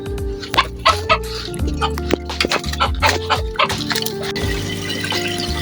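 A rooster and hens cluck in a backyard coop during morning feeding, with short clucks over steady background hum and splashy water noises, plus occasional talk.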